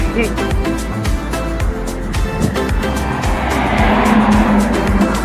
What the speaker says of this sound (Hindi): देखिए गाड़ी क्रॉस हो